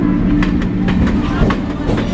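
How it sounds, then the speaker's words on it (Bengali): Bardhaman local passenger train standing at platform 3 of Kankinara station, with a steady low rumble and faint clatter of the train filling the scene throughout, while people talk nearby. "এই হচ্ছে আজকে আমাদের বর্ধমান লোকাল, কাকিনাড়া স্টেশনে 3 নম্বর প্ল্যাটফর্মে দিয়েছে।"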